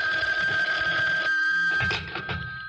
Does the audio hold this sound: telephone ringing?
yes